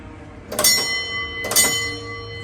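A steam locomotive's bell at a locomotive museum is rung by pulling its rope, two loud metallic clangs about a second apart, each leaving a long ringing decay.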